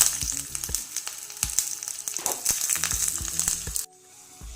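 Shallots and curry leaves sizzle sharply in hot tempering oil with dried chillies and pepper, crackling and popping close up with clinks of a utensil, then the frying cuts to a quieter hiss near the end.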